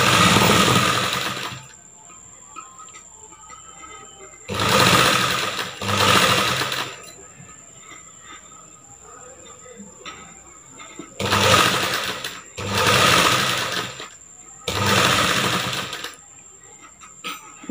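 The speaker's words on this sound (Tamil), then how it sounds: "அதுக்கு மேலே நம்ம வச்சுட்டு தையல் போட்டுட்டு வருவோம்." A sewing machine stitches a blouse neckline in short, loud bursts of rapid mechanical chatter, about six runs, each one to two seconds long, with quiet pauses between them.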